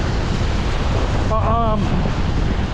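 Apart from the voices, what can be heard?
strong wind blowing on a seaside beach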